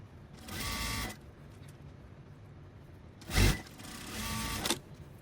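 Two short runs of a home sewing machine stitching bias binding onto dog clothes, the motor whirring clearly, separated by a quiet pause and a brief thump of fabric handling.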